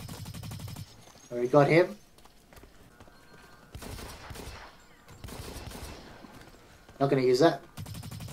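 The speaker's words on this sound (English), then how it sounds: "Let's give this pistol a go." Pistol shots in the video game Blacklight Retribution, two short loud bursts of rapid cracks a few seconds apart, with someone talking in between.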